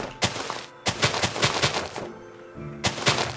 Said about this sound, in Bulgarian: Ще ви покажа фойерверки.